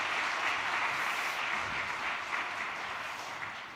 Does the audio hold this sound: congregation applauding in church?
yes